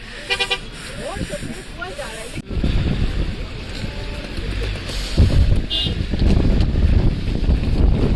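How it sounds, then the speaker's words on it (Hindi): Strong, very cold wind buffets and roars across the microphone in heavy gusts on the road from Gangtok to Nathula Pass, with voices talking and a brief tooting sound. "बहुत तेज़ हवा चल रही है"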